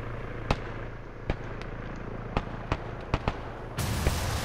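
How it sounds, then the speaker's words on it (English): Mortar fire in a military video game, a series of sharp distant cracks spaced irregularly over steady ambient hum, ending in a louder rush of noise. "He's getting on the mortar. He's firing them very defensively here."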